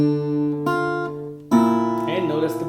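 A plucked fingerstyle guitar picks out the intro to a song, single notes ringing over steady bass notes, with the part thickening into fuller chords partway through; no voices.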